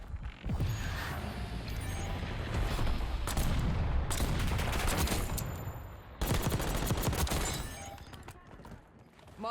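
Rapid gunfire in the video game Call of Duty Black Ops 6, with dense bursts of automatic shots and booms that are loud and near, running almost continuously with a brief lull before a second heavy volley.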